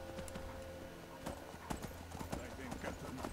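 Horse hooves clip-clop on the ground in the Skyrim video game, a steady string of sharp, close knocks over a busy bed of background game sound.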